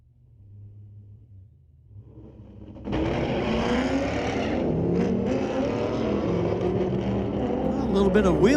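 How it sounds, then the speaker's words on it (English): A 1970 Chevy launches at a street-legal drag strip, a low idle rumble swelling into a loud sustained roar with wheel spin as it pulls away, carried on at close range with an announcer's voice over it. "A little bit of wheel spin off that 70 Chevy."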